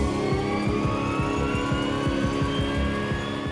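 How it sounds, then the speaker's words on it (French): Boeing 727 engines spooling up at start, a steady mechanical whine with rising tonal hums and a pulsing low rumble, close and continuous. "démarrage des moteurs."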